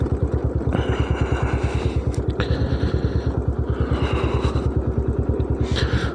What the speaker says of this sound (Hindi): कोशिश कर रहा हूँ कि पक्के पैर से होते हुए बाइक को नीचे उतारूँ।